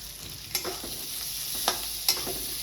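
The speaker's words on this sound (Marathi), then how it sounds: "त्या तेलामध्ये मी आता हा कांदा भाजून घेते" Onion frying in oil for an egg curry masala, a steady close sizzle broken by a few sharp spatula scrapes and taps against the pan, no talking.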